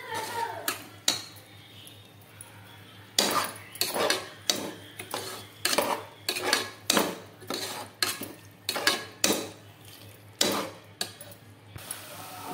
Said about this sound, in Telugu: దీన్ని కూడా పచ్చివాసన పోయే వరకు 5 మినిట్స్ బాగా ఫ్రై అవ్వనివ్వాలి.